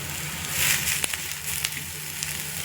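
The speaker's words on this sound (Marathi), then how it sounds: "आता तावा ठेवला मी आता तापायला आता त्याच्यामध्ये कांदे टाकते भाजायला" Onions roasting on a hot tava griddle, ready for a masala base for egg curry, give off a low steady sizzle with a few soft crackles and faint scrapes, close and quiet with no voices.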